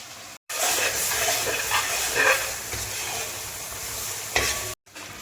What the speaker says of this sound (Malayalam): ഇതൊന്ന് എണ്ണയിൽ കിടന്ന് ഒന്ന് മൂത്ത് വരണം